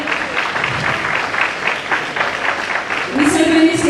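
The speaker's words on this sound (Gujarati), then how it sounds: "વિશાલભાઈ માટે જોરદાર તાળી થઈ જાય." An audience at a charity honouring ceremony claps for a donor, a dense burst of applause that swells near the end, with an announcer's voice over the clapping.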